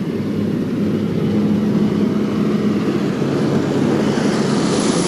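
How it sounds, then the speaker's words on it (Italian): The engine of a powerful single-engine Pilatus aircraft carrying skydivers drones steadily and loudly, a continuous close rumble with a faint tonal hum and no break throughout. "Ambrogio sale a bordo del Pilatus, un potente monomotore che porterà i paracadutisti istruttori e l'allievo in quota."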